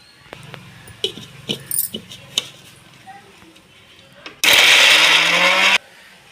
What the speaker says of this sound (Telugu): ఇప్పుడు మెత్తగా మిక్సీ పట్టేసుకోవడం